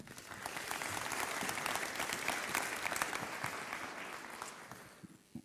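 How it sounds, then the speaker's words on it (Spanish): Audience applauding at a conference talk on industrial cyberthreat analysis, steady, dense clapping from a seated crowd that swells, holds, then fades out near the end. "Un aplauso."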